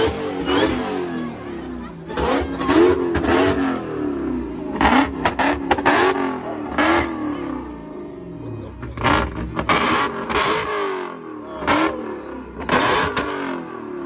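A 1,000 hp Dodge Hellcat at a car meet revs hard and accelerates in repeated loud bursts of engine roar, with crowd voices and talk mixed underneath throughout.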